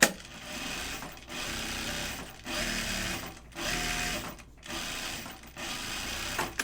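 A sewing machine understitching a lining on a zip bag, running in repeated bursts of rapid, even mechanical stitching separated by short pauses, close and moderately loud with no voices.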